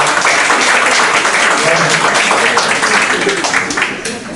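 Loud, sustained applause from an audience at a healing presentation, dense clapping throughout that tapers off near the end, with voices mixed in.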